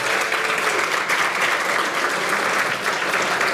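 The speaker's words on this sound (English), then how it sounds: "Please give them a round of applause." Steady, dense applause from an audience at a school education foundation hall of fame event honoring senior student musicians, sustained and even throughout without talk.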